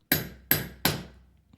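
Three sharp metallic taps of a hammer striking a chisel against mountain stone, evenly spaced about half a second apart, each ringing briefly before fading, close and clear with no voices.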